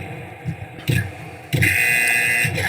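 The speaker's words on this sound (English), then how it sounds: "And we got a buzzer." A game-show buzzer blares in harsh electronic bursts, a short blast followed by a longer sustained buzz, loud and close over a busy studio background.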